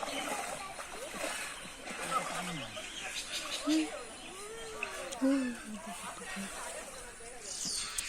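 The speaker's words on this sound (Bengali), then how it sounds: "এই যে মাছ ধরছে দেখেন হাত দিয়ে" Hands splash and slosh through shallow home-pond water while catching fish, the intermittent splashes sitting under people's voices and occasional birdsong outdoors.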